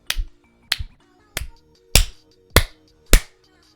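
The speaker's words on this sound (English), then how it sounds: "Some loud microphone clapping for you" Six loud, sharp hand claps right up against a microphone, spaced roughly half a second apart with brief silences between, no voices present.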